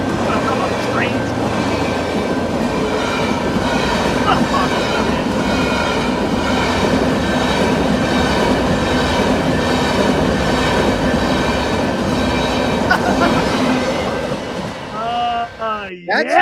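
A train rolls past on the tracks, a loud, steady rumble of wheels and railcars lasting most of the span, with brief metallic squeals and clatter near the end.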